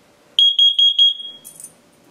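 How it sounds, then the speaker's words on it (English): A Nest Protect smoke alarm runs its test alert: a loud series of about six rapid high-pitched beeps, followed by a brief softer chirp, with no voices. "This is only a test. Testing smoke."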